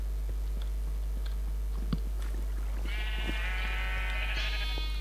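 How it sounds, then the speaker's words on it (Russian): A blue sheep in the video game Minecraft bleats in a few wavering, fairly close calls over a low, steady background hum. "я вижу, у нас голубая овца"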